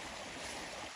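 Water gushes out into a small stream in a dry landscape, a continuous close rushing flow heard alone for a brief moment.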